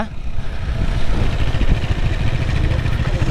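Motorcycle engine runs steadily on a short ride, a low rumbling drone with a slight throb, close and fairly loud throughout.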